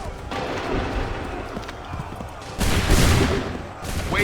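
A volley of musket fire in Assassin's Creed III bursts out as a loud, crackling fusillade of overlapping shots, with scattered battlefield noise and hooves before it.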